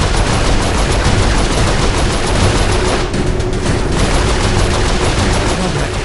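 Turret gunfire in Saints Row 4 rattles on as a loud, dense, nonstop automatic burst, close and filling the whole stretch with no pause and no talk.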